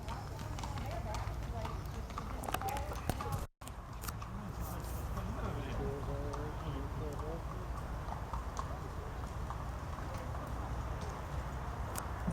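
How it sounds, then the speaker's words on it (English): Horses clip-clop at a steady trot across the wooden deck of a covered bridge in Cuyahoga Valley National Park, the hoofbeats running continuously over a busy background with people talking nearby. "one of the main purposes of this covered bridge was to carry a lot of horse traffic"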